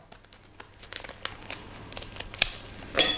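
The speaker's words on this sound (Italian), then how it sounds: "dovremo incidere sempre con le forbici la parte laterale delle nostre cicale" Scissors cut along the sides of mantis shrimp shells in a kitchen, giving crisp crackling snips and crunches at an irregular pace, close up, ending in a louder crunch.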